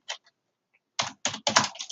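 A computer keyboard clicks as a dashboard title is typed: a lone keystroke, then a quick cluster of crisp, close keypresses.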